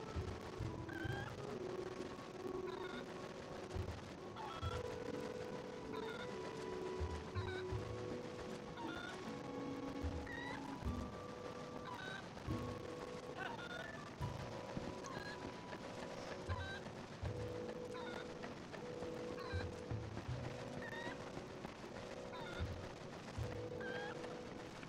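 Cuccos in the game Zelda Twilight Princess, repeated short clucks and squawks scattered over a steady game backdrop with tonal music, moderately faint and without speech.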